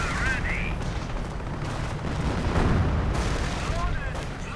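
Anti-tank gun and other weapons firing in a real-time strategy war game, a dense, continuous rumble of booms and explosions with faint whines, mixed under a commentator's voice.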